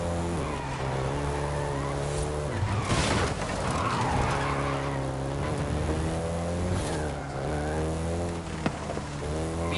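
A Volkswagen Golf GTI driven in Forza Horizon 5, engine droning steadily with tire skids and squeals, loud and continuous throughout with no talking.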